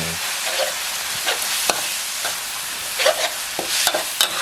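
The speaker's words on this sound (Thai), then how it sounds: "ผัดเป็นเส้นครับ คลุกนะครับ กับน้ำซอสนะครับ" Minced pork with holy basil and glass noodles is stir-fried in a pan, with repeated scraping strokes of the utensil over a soft sizzle and no talking.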